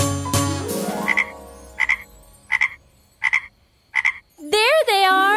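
Five short cartoon frog croaks spaced about a second apart, each a quick bright burst, follow a musical swell and lead into a rising, warbling synth flourish in an African educational children's counting song.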